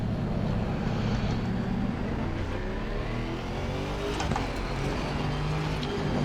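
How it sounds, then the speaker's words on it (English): Race car engine in the Assetto Corsa Competizione racing game, a steady, loud low droning hum that holds evenly from start to finish with no pauses. "start the engine, off we go, come on, start the engine"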